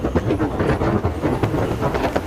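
A train to Vizag rolls along with rhythmic clickety-clack from the wheels over the rails, loud and close, as if heard from inside a carriage.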